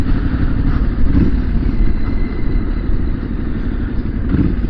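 A Triumph SS 900 motorcycle cruises at about 30 mph, with a continuous low engine drone blended with road and wind rumble that stays steady throughout.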